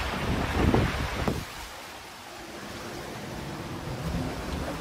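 Wind blowing across the deck of a sailboat, a broad rushing hiss with gusty buffeting against the microphone at the start, then settling into a softer steady whoosh.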